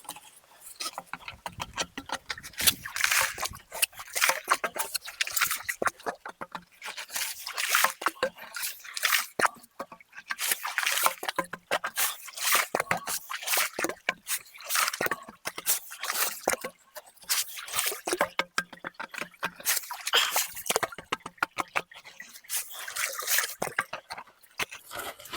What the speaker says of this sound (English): Just feeling around with the end of the pump just to find any loose stuff that can suck up.